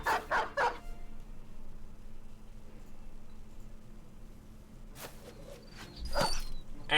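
A dog barks in bursts during a battle in the video game Battle Brothers Legends, one pair of barks at the start and more near the end, over quiet background sound.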